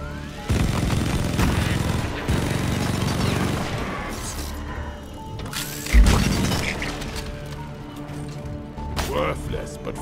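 Gunfire in the Deep Rock Galactic video game rattles in rapid bursts alongside heavy impacts and a boom, loud and chaotic, with a player's voice speaking over it.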